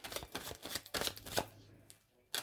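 Tarot cards being shuffled by hand during a reading, a few quick riffling bursts up close and fairly quiet, separated by short pauses, with a final sharp snap at the end.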